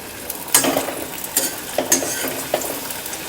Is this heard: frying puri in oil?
yes